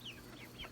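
Chickens in a backyard flock gathered around a newly introduced rooster give a few faint, brief clucks and chirps, distant and soft under outdoor background noise.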